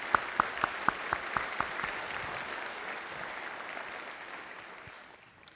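An audience at the 2018 Colin L. Powell Lecture at Fort Leavenworth claps in a warm, even round of applause, with a few crisp individual claps up front before the sound settles into a steady wash and slowly fades.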